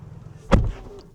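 A door of a Tesla Model Y Juniper shuts with a single solid, deep thud, close and brief, that stands out against a quiet background.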